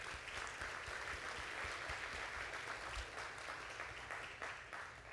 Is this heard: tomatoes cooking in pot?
no